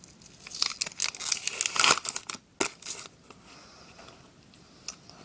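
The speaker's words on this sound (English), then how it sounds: "Just going to rip the stickers." Foil Match Attax 13/14 football sticker packs being torn open by hand, a burst of loud crinkling and ripping in the first three seconds, then a brief sharp tear and quieter rustling handling with no talk.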